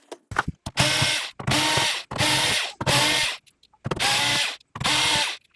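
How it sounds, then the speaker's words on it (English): Small silver screws being backed out around the border of a PS5 Slim with a power driver, six short whirring bursts separated by brief pauses, close and clear. "removing every single one of these little silver screws that goes all the way around the border"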